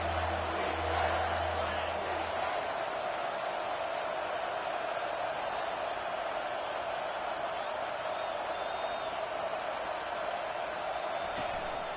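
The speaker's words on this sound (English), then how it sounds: "This crowd rising up, sensing that its defense needs some help." A football stadium crowd swells into a broad, continuous roar during a game, while a commentator talks over the steady noise throughout.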